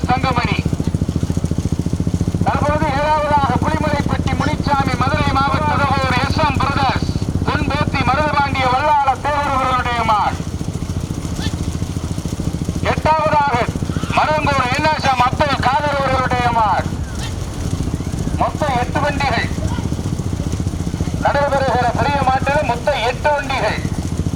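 A motorcycle engine runs steadily throughout, close and loud, at a bullock cart race in Pudukkottai, India, while people talk loudly over it in several stretches.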